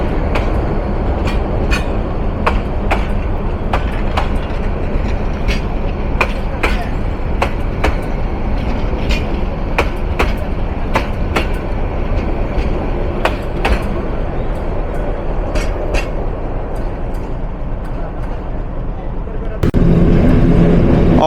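Mohua Commuter train rolling on rails after completing a crossing, a loud continuous rumble with repeated sharp clacks of wheels over rail joints, shifting to a heavier tone near the end.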